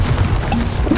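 A Confringo blasting spell goes off in a Harry Potter video game: one loud, dense low boom filling the whole second with no talking over it.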